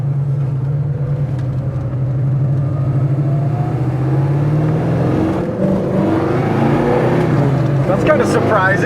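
A 1970 Chevy Nova Super Sport V8 engine revving and pulling hard under acceleration from inside the car, a loud steady drone rising in pitch, with people talking over it.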